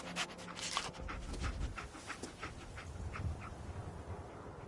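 Dogmeat, the dog companion in Fallout 4, pants in quick, rhythmic breaths up close, moderately loud, with no talking over it.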